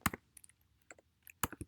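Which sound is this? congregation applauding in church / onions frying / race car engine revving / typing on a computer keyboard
typing on a computer keyboard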